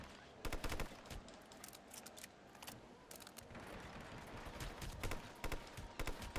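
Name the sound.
gunfire from the video game Hitman Absolution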